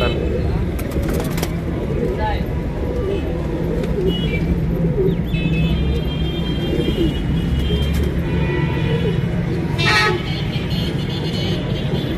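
Pigeons coo softly amid a busy outdoor scene, with traffic, a car horn and other birds around them.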